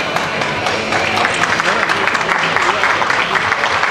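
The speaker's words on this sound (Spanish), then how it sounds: "fuerte aplauso para estos dos campeones, locales" Applause at a town hall recognition ceremony for two local canoeing champions, loud and continuous clapping mixed with crowd noise, heard close up for the whole stretch.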